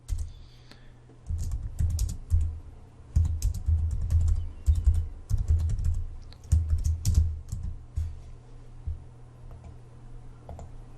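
Steady clatter of keystrokes on a computer keyboard, coming in quick bursts with short pauses, close and fairly quiet, with no talk over it.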